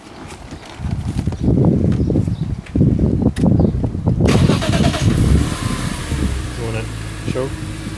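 BMW Z4M engine in a garage cranking and firing up, with a sharp catch at start followed by a steady idle roar; someone talks over the earlier part before the engine starts.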